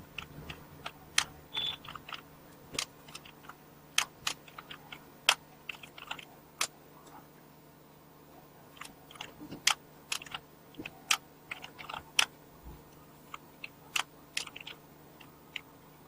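Computer keyboard typed on while writing Java code in an Android project, with irregular bursts of sharp key clicks and clacks spread across the whole stretch, close and fairly quiet, no talking.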